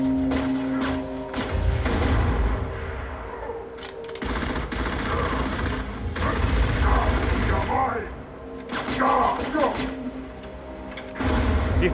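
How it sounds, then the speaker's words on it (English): A sound-suppressed submachine gun fires in Halo ODST in rapid muffled bursts and thuds, mixed with game noise and someone talking over it throughout. "Here you see the sound-suppressed submachine gun."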